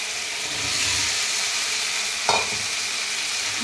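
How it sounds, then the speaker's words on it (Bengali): Soybean chunks and potatoes added to hot oil over a cooked spice paste: a steady close hiss of frying with one brief clatter midway as they drop in, no voices. "দেখুন তেল ছেড়ে গেছে, এবার দেবো আমি সোয়াবিন আলু"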